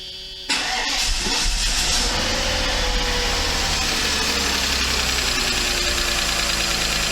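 A Mercedes 500E W124 V8 engine cranks for about half a second, catches and fires, then settles into a loud, steady rough running roar close by, with no talking.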